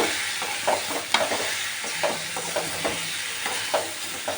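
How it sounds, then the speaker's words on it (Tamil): Prawns and ridge gourd sizzling in a hot pan while being stirred, with repeated scraping clicks of a utensil against the pan at an uneven rhythm. "இறாயும் போட்டு இதில் பிரட்டிக்கிட்டு"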